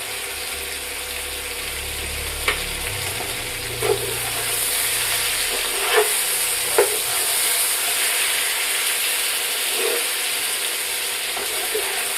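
Potato and kohlrabi chunks frying in oil keep up a steady sizzle, with occasional clicks and scrapes of a spatula stirring them in the pan.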